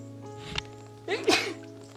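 A single close sneeze bursts out on a bush track in the middle of a quiet stretch, brief and sharp over a steady low background hum.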